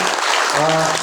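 Loud, dense applause from an audience at an Ayurvedic business gathering, filling the whole moment with a voice and crowd sounds mixed in.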